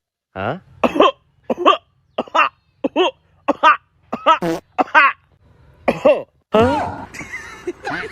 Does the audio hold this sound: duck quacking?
no